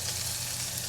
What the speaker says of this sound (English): Just going to saute this for a second